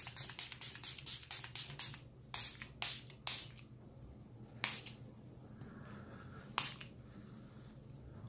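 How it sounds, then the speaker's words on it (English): Quick pumps of Milani Make It Last setting spray mist onto a face: a rapid run of short hissing sprays, then several spaced single bursts, close and crisp over a low room hum. "Don't be afraid to spray it a ton."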